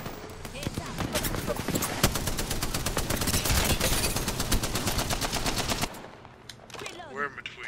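Rapid automatic gunfire in the video game Apex Legends, a loud sustained burst of closely spaced shots lasting several seconds, then cutting off abruptly to quieter game sounds.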